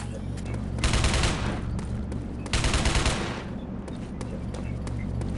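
Gunfire in Rogue Trooper Redux: dense volleys of rapid shots rattle in two loud bursts over a constant low rumble of battle, with scattered firing in between.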